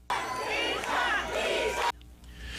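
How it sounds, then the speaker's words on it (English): A crowd of new fans chanting and cheering loudly at a public appearance, a sustained roar of many voices that cuts off abruptly, leaving quieter background. "He tried to speak, but the chanting from his new fans were overwhelming."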